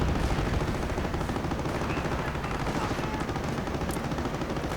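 Dense, continuous gunfire from a real-time strategy battle as a rifleman squad is fired upon, a loud unbroken rattle of shots layered with distant explosions and battlefield rumble.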